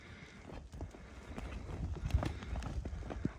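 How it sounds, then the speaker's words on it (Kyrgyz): Hooves of a horse running in the mountains of Arstanbap clip-clop in an uneven, fairly close patter over outdoor ground noise, with a few sharper hoof strikes standing out. "Бул атыбыз чуркаганы жакшы экен."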